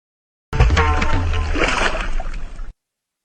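Water being poured out and splashing at a riverside shrine to Masoba, a loud, close gush of about two seconds that starts abruptly and then cuts off.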